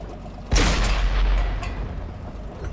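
A tank's main cannon fires in the console version of World of Tanks: one loud, close, sharp blast, then a heavy rumbling boom that slowly fades over about two seconds, with no talking.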